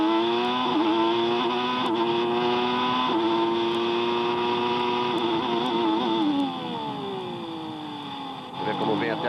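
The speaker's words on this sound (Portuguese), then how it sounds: "Dá para ouvir o barulho do motor, as marchas sendo jogadas para baixo." 1993 Formula 1 car in official practice at the Australian Grand Prix, its high-pitched engine screaming and revving as it downshifts and upshifts through the gears, with a commentator talking over it.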